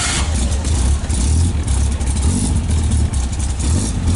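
A 1951 Morgan Plus 4 engine fires up and revs, loud and close, its mid-pitched roar rising and falling in quick surges against a constant throaty drone.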